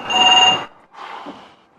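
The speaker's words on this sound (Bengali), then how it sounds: "আবারও ফোন এসেছে।" A telephone rings with a short bright electronic trill, then pauses and starts a second, softer ring, close and loud with nothing else around it.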